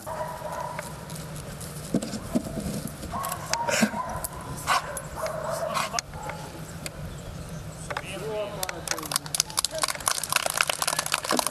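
A shepherd search dog, looking for one pair of shoes among many pupils' shoes, gives scattered barks and yips at close range, mixed in with steady talk from people nearby.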